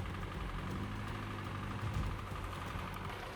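A Soviet ZIL 157 truck's engine runs steadily, a continuous low rumble with a heavy vibrating drone and a faint knock, constant in loudness throughout with no voices.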